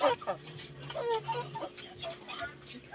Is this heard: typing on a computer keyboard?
no